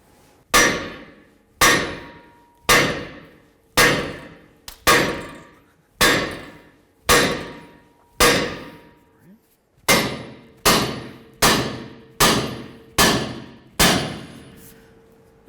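Repeated metal hammer blows on the front suspension knuckle of a 2008-2012 Jeep Liberty, about sixteen loud, ringing strikes in a steady rhythm, close up, with each clang decaying briefly and the blows coming slightly faster toward the end.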